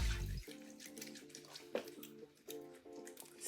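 Tap water runs and splashes over hands lathering a homemade basil and aloe soap bar, with soft squishing and dripping close by.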